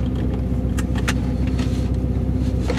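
A Porsche 944 fitted with a V8 engine idles steadily, a deep, even rumble close by with a few faint clicks and jangles on top, no voices.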